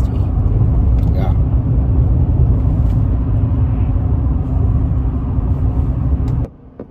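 A truck towing a small hiker trailer drives along the road, giving a loud, steady low rumble and road noise that suddenly cuts off near the end.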